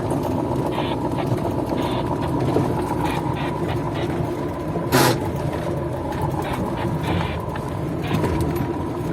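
A Kamaz truck drives through a sunflower field during the 2022 harvest, working in tandem with a Case 2388 combine. Its engine gives a steady, continuous rumble throughout with no pauses.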